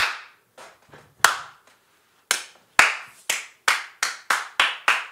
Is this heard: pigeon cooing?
no